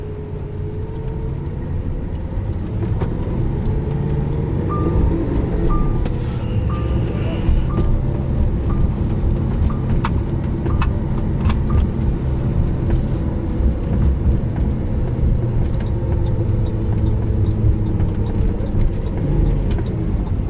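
A 2012 Lamborghini Aventador pulls away and drives, its engine a steady low rumble with gear changes and rising revs, close and continuous, with occasional small clicks inside the cabin.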